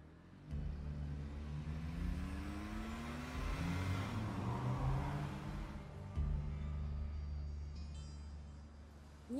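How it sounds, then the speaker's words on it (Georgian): A car pulls up nearby with its engine humming low, then revving up and easing back down before a second rise in engine note; the motor drones steadily throughout without any speech. "მანქანა მოგაკითხათ."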